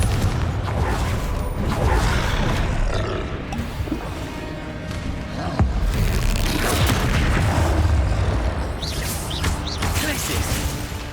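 Confringo fire spell blasts in the video game Hogwarts Legacy: loud, dense booming roars that swell and fall in waves over continuous combat noise, with a sharp impact crack partway through.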